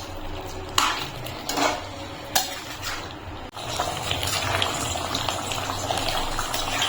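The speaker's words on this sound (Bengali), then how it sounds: "দিয়ে ভালো করে নাড়িয়ে চেড়ে নিচ্ছি।" A spoon scrapes and clatters against a cooking pot while ground roasted spices are stirred into simmering chicken korma, a few sharp metallic knocks over a soft, steady bubbling and stirring texture.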